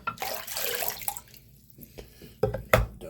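A Naniwa Snow White 8K sharpening stone is dunked and rinsed in water, giving a gush of splashing, then a quieter lull, then a couple of sharp sloshes and drips near the end.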